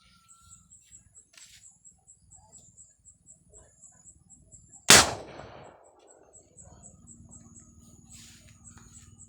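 A homemade PVC boga cannon fires with a single loud, sharp boom midway, preceded by soft rhythmic clicking and followed by faint background chatter and outdoor ambience.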